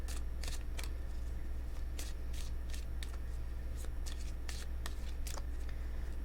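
Romance Angel oracle cards being shuffled by hand, a quiet run of quick papery riffles and slaps repeating at close range over a low steady hum, with no talking.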